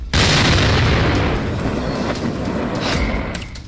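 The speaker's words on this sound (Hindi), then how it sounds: "मौत का धमाका, कांप उठा इलाका।" A loud, sustained explosive roar from a factory blast in Harda fills the whole stretch, a heavy rumbling blast that keeps booming and crackling without letting up.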